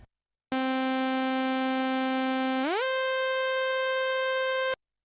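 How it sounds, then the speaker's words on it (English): A buzzy synthesizer tone holds one note, then slides smoothly upward an octave with portamento at 50% into a sustained higher note, steady and loud before cutting off, with no voices. "Now you can hear the tone glides from one note to the other smoothly."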